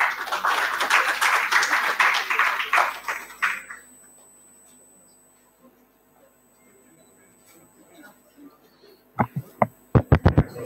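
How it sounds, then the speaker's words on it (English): An audience applauds presenters at a student entrepreneurship pitch event with dense, steady clapping for a few seconds that quickly fades to near silence, followed by a few isolated sharp knocks. "Please give a round of applause to them."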